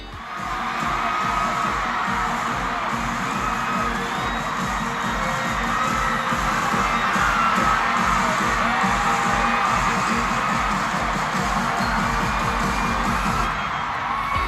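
A vast stadium crowd of nearly 90,000 fans at an Eras Tour concert cheers and screams continuously, a dense, loud roar of shouts and whoops sustained throughout.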